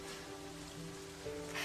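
Heavy rain pours steadily in a short, even wash of noise, a constant patter with no voices and a slight swell at the very end.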